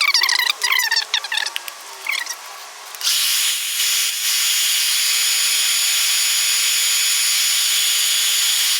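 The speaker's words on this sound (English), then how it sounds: "I'm going to take it to the sander and get our edges onto this finished up first" A power sander whines against the edges of a leather holster, first in short bursts of varying pitch, then settling into a loud, sustained high-pitched drone with no speech.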